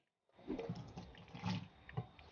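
Water is poured while cooking Tongan lu sipi, giving a short, faint splashing pour in a few uneven bursts after a moment of silence.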